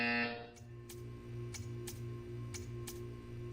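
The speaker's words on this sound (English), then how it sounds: "When you hear the buzzer, stare at the art." A buzzer in the video game Portal 2 sounds as a steady low electronic hum, with a sharp tone at the start and regular clicking pulses repeating about every third of a second.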